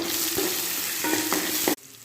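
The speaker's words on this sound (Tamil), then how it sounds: "எண்ணெயிலே வதக்கணுங்க" Vegetables including tomato and dried red chillies sizzle steadily in hot oil, with a few stirring scrapes through the frying before it cuts off abruptly.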